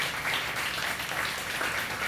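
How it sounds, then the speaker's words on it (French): Applause from an audience at a Quebec Fête Nationale press conference, a steady, dense wash of clapping that fills the short stretch without letting up and with no talk over it. "oui, vous pouvez l'applaudir"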